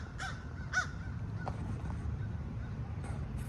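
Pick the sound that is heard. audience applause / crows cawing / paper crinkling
crows cawing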